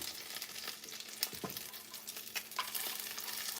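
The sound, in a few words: tuna melt taco cooking on the stove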